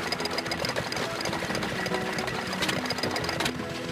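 An antique Nelson Brothers hit-and-miss stationary engine running at an agricultural museum's antique power show, giving off a steady, busy mechanical chatter and knock with no pauses.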